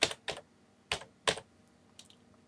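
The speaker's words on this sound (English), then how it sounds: "so I'm going to just type in" Someone types on a computer keyboard in a few quick key clicks with short gaps, close and crisp, with no voices.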